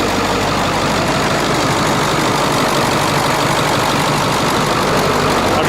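Ford 7.3 diesel truck engine idling steadily after a no-start fix, a loud continuous low rumble with dense broadband clatter running unbroken throughout, no voices present.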